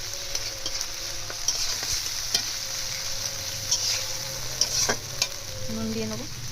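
Rohu fish curry with drumsticks, potatoes and turmeric being stir-fried in a village kitchen, a close, steady sizzle with repeated scraping stirs of the spatula.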